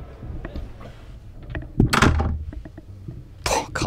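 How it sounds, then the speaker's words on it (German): A cabin door on a 13 m Princess V40 luxury yacht swings shut with a solid thunk, followed by a softer latching knock, set against quiet interior rumble with faint background noise. "wenn ich jetzt die Tür noch schließe."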